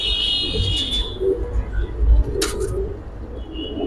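Giribaz and coloured pigeons coo in low, soft bursts amid a busy market setting, with shrill electronic tones and brief clatter overlapping the birds.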